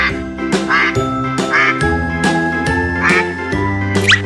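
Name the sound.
duck quacking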